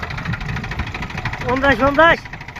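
A tractor engine chugs steadily with a rhythmic knocking pulse while driven through a cotton field, and a brief whining tone rises and falls near the end.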